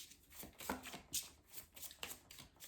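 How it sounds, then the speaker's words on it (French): A 32-card deck of playing cards being shuffled for a cartomancy reading: quick riffling and flapping of cards in close, soft bursts over a few seconds. "Alors, donc vous battez les cartes."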